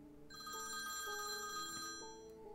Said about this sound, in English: At 3 a.m., the phone rang.